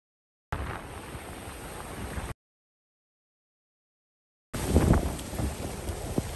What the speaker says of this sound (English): Pretty strong wind gust right there.